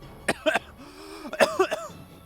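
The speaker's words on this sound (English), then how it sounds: "you got a little bit of a cough" A couple of short coughs, then a brief throat-clearing hum and a few more quick coughs, close and fairly loud.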